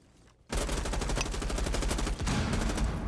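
Rapid automatic gunfire in Rainbow Six Siege during a competitive esports match, a sustained loud burst of shots after a brief quiet start, with a short gap before firing resumes.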